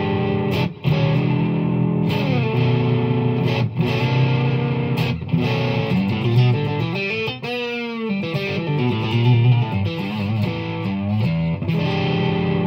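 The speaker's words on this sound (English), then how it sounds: "So full neck pickup and the full middle pickup." An electric guitar with a DiMarzio Evolution neck humbucker and HS3 middle single-coil pickup, both selected together, plays loud, driven chords and riffs with a distorted, effects-laden tone, continuous and alone without speech.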